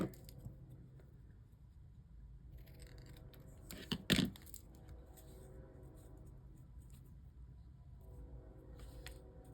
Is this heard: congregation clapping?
no